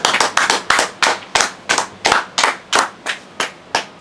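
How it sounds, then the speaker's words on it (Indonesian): Sharp claps ring out in a steady, evenly spaced rhythm, about a dozen loud hand claps in a row, alone with no voices. "Tepuk tangan."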